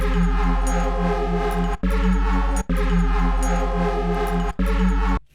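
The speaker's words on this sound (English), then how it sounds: "synth lead, DnB synth lead chord." A bright, sustained drum and bass synth lead chord made in Serum 2 plays loudly on its own, held in long blocks with brief gaps where it cuts off and restarts.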